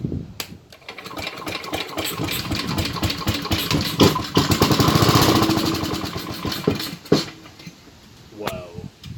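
An old Tecumseh small engine fitted with a carburetor swapped from another engine sputters and catches, then runs roughly at a loud uneven idle with a few misses and pops, while a person talks over it.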